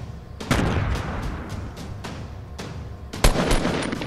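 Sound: grenade explosion in Fortnite video game

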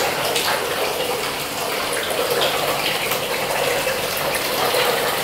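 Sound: bathtub filling with water from the tap

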